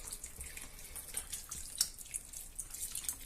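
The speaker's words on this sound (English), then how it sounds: "I'm going to cover it up with the broth or stock" Broth or stock pours over a meatball stew in a pot, a soft continuous liquid splash and trickle with small drips, faint and close, with no voices.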